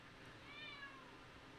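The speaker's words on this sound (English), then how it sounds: "That's my cat." A house cat gives one faint, drawn-out meow against a soft background hiss, with no talking.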